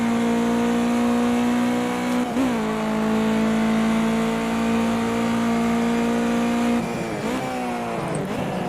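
A race car engine in Project CARS 2 holds a loud, steady high drone on a flying lap, dips briefly as it shifts around 2.4 seconds, then drops and climbs again near the end, with no talk.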